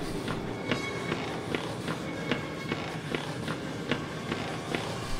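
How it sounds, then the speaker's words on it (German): Quick, evenly spaced footsteps, like running or a brisk walk on a hard floor, sound in a real-life Outlast horror parody, clear and fairly close over a steady background hum. "Ich höre Schritte."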